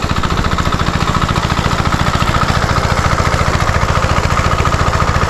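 A water pump engine runs steadily up close, its fast, even mid-pitched chugging holding constant with no talk.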